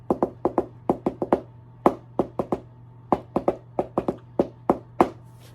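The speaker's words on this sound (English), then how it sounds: "I wonder if he knocks like blue suede shoes." Rhythmic knocking on a door in the pattern of Blue Suede Shoes: sharp, close raps in quick clusters, repeated many times with short pauses and no voices.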